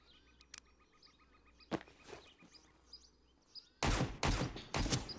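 M4 rifle fire in the game Road to Vostok, a few sharp scattered shots early and then a loud burst of several close rapid shots near the end, with faint birdsong in the background.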